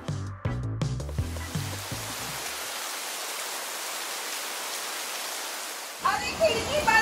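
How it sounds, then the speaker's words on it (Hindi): Heavy monsoon rain pours in a steady, hissing wash, preceded by a few seconds of voices and followed by more talk as it fades. "बारिश हो रही है यार अभी"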